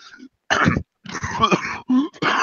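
A few short, harsh coughs in separate bursts, close by, with brief pauses between them.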